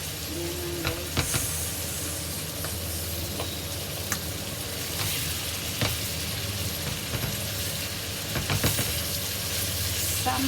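Sambal fries in a pan while being stirred, a steady broad sizzle running close throughout, broken by intermittent scraping strokes and soft clacks of a utensil against the pan, with no voices.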